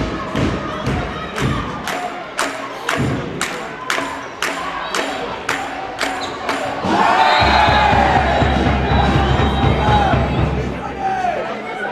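Spectators at a women's second-division handball match in Wismar cheer and roar for the home team, with repeated thumping beats from the stands at first, then a loud sustained crowd cheer with whistles and shouts.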